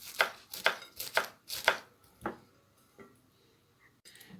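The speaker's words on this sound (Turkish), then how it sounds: "Taze soğanlarımızın ardından maydanozumuzu ufak ufak doğruyoruz." Crisp knife strokes chopping parsley finely on a cutting board, a quick run of about five chops followed by a few softer, sparse taps.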